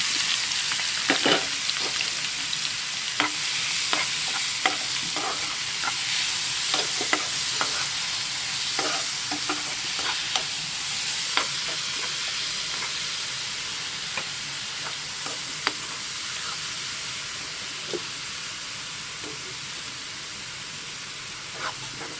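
Crushed ginger, garlic, green chili and shallots with curry leaves sautéing in a pan for a squid stir-fry: a soft steady sizzle with frequent sharp spatula taps and scrapes, and no talking.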